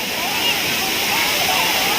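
Water cascades steadily down Sai Yok Noi waterfall in Kanchanaburi, Thailand, a constant close hissing rush with faint splashing and no break.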